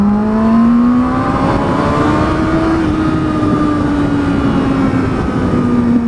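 Kawasaki ZX6R motorcycle accelerating in second gear, a loud, steady engine whine that rises slowly in pitch, then eases off, then rises again, over constant wind rush, with no talking.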